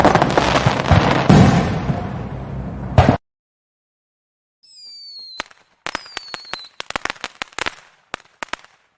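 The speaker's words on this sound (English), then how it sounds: "I'm casting Magic Missile." A Magic Missile spell effect cast in a tabletop role-playing game: a burst of loud crackling, then silence, then rising whistling streaks followed by sharp repeated pops and bangs, like fireworks going off.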